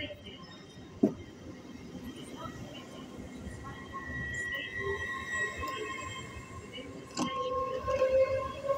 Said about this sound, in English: This train is formed of 5 coaches.